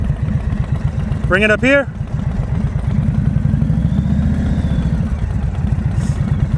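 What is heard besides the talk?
Harley-Davidson motorcycle engine running at slow speed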